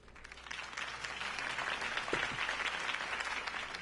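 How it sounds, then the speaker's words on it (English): Steady video game crowd applause, many hands clapping at once, heard at a moderate distance and building slightly in intensity throughout. "could have heard that applause"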